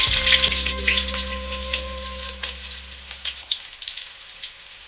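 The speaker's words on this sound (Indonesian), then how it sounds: "yang pertama kita tumis bawang merah bawang putihnya yang udah kita cincang" Chopped shallots and garlic sizzle in a pan, a steady crackling fry with scattered pops, strongest at first and then settling into a softer, even hiss.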